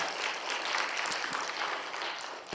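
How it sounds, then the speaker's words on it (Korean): A church congregation at a Wednesday worship service breaks into steady applause, a dense even wash of many hands clapping at a moderate distance with no voices on top. "박수 한번 쳐야 되는 거 아니에요?"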